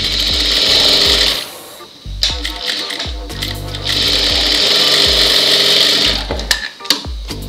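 A sewing machine stitches a blouse in two long loud runs of steady whirring, with a short pause and a few clicks between them and more clicks near the end.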